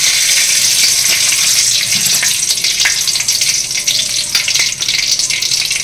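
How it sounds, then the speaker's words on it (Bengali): Whole garam masala spices (cinnamon, cloves, cardamom and black peppercorns) frying in hot oil give a loud, dense, continuous sizzle close by, with a few sharper pops and no talking. "এবার তেলের মধ্যে গোটা গরম মশলা দেবো, দারচিনি লবঙ্গ এলাচ আর গোটা গোলমরিচ"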